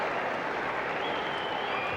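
New Zealand supporters in a cricket stadium crowd cheer and clap, a steady distant wash of applause and crowd noise, faint and continuous.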